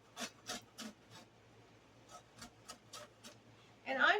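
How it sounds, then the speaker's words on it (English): Lime zest is rasped on a metal box grater for a key lime icebox cake: a handful of soft, close scraping strokes in short bursts, quiet against a faint hum. "And I'm just using this on the grater, just like if you grate cheese."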